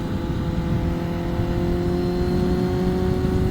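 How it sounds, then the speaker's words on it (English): A Kawasaki Ninja ZX-10R sport motorcycle with a Leo Vince LV10 aftermarket exhaust runs close by with a deep, steady exhaust drone and slight throttle rise, loud and continuous. "I like the exhaust tone with this pipe."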